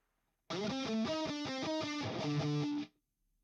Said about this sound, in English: And now let's hear the face bender.